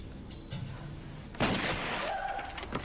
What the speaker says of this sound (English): Gun go boom.